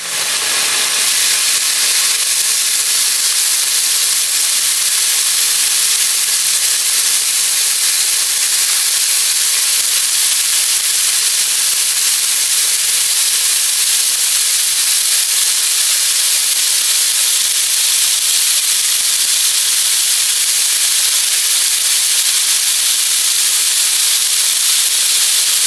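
Eggplant adobo in a covered pot gives off a loud, steady, bright steaming hiss that holds unchanged throughout, with no other sounds.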